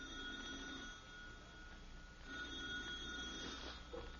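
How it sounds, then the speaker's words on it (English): A telephone ringing in a quiet, dark house at night, with continuous faint ringing tones held steady across the clip and nothing else heard. "The telephone's ringing."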